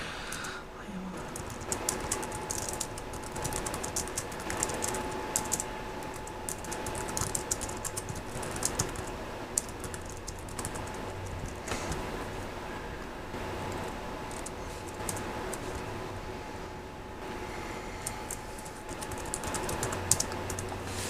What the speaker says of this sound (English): I suck at typing on this computer.